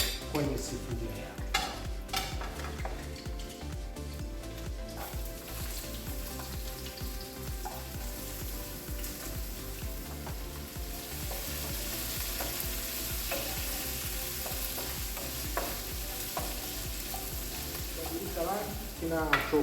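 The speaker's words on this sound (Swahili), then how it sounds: "Baada ya hapo tutaweka vitunguu maji, alafu tutaweka viungo vingine ambavyo vitakuwa vinafuatia, lakini cha kwanza kabisa ni kitunguu maji" Chopped onions frying in oil in a cooking pot, a steady hiss of sizzling with occasional stirring scrapes and clinks running throughout, fairly close and continuous.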